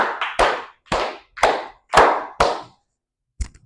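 Children in a classroom clap together on a teacher's count in a quick run of about six loud claps, with one lighter, softer clap after a short pause.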